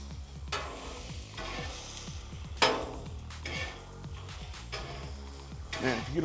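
Garlic butter sizzling and being stirred on a teppanyaki grill, a steady frying hiss broken by repeated metallic spatula scrapes and clinks, close up, with a voice talking now and then.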